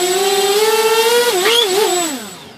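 The brushed-to-brushless electric motor of a Delta Ray RC plane, running on a 3S battery, whines loud and close at steady throttle, dips and wavers mid-clip, then winds down as the throttle is cut.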